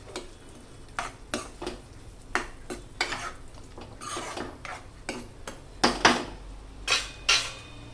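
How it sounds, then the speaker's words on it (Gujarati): Pav bhaji vegetables being mixed in a pot, with a spoon scraping and knocking against the metal in repeated sharp strokes, close and fairly loud, with no talking. "બધું મિક્સ કરી દેવાનું."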